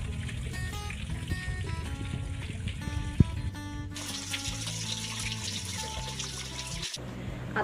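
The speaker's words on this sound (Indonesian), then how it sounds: "Lalu, cuci tangan menggunakan sabun." Hands being washed with soap under a running tap, a continuous close splash of water into a sink with a brief sharp knock partway through and shifting tone as the flow changes.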